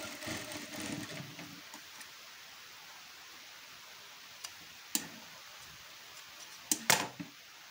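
A sewing machine stitching the joined pieces of a size 34 katori blouse, with a short close burst of rapid stitching at the start, then a few isolated clicks and taps in a quiet room.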